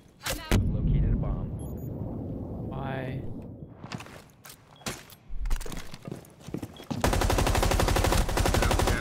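Gunfire in the Casual Tower video game, with scattered shots and then a loud sustained rapid machine-gun burst near the end, mixed with footsteps and game effects as a voice talks.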